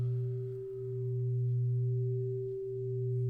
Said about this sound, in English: when one tone goes into my left ear while I'm wearing headphones, and another tone goes into my right ear while I'm wearing headphones, and there's a gentle shift and change in those tones